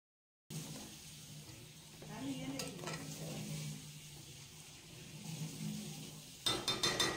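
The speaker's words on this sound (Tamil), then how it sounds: "நான் மீனை ஃப்ரை பண்ணிட்டேன்" Fish fries in a pan with a steady, soft sizzle close by, stirred now and then with faint clinks of utensil against the pan, ending in a few louder metallic knocks.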